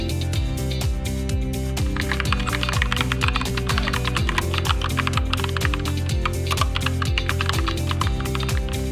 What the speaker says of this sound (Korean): 어때요? 키크론의 타건은 괜찮죠?